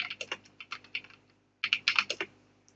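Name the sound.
typing on a computer keyboard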